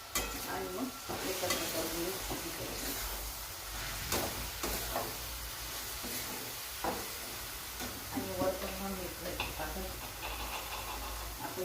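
Cumin seeds and asafoetida hit hot oil while onion sabzi is cooked village style, giving a soft continuous sizzle with scattered crackles and occasional clinks of stirring, and a voice talks over it.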